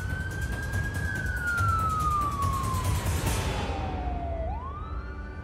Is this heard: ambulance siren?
yes